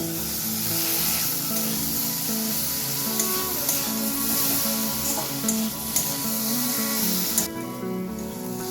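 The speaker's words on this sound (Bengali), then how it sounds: "সবটাকে আবারও খুব ভালোভাবে মিশিয়ে নেব" Mustard paste mixture being stirred in a hot frying pan for an egg and okra dish sizzles loudly and steadily, with soft scraping of the spoon and faint tonal background music throughout.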